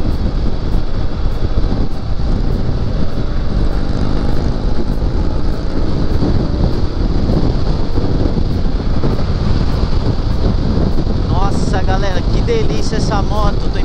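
A 2016 Indian Scout motorcycle on a test ride, its engine droning loudly and steadily with heavy wind rush across the whole stretch, close and continuous, with a rising whine near the end.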